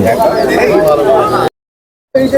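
Pigeons at a village pigeon market coo in a low, steady murmur under loud nearby talk, with the sound cutting out briefly before resuming.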